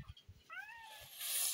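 A young kitten, a Persian-type cat born to a village cat, lets out one thin, rising meow close by, with soft handling noises around it.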